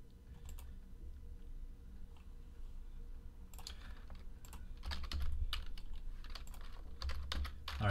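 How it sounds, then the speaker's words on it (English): Typing on a computer keyboard at a desk during a sports card box break, a close run of quick clicking keystrokes in uneven bursts, sparse at first and then denser, with no talking. "I'll type TWC in the chat"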